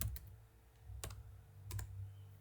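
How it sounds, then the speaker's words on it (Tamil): Soft keystrokes on a laptop keyboard as a word is typed into a browser: a few sparse, faint clicks spaced out over a low steady hum. "ஃப்ளிப்கார்ட்னு டைப் பண்ணிக்கிறேன்."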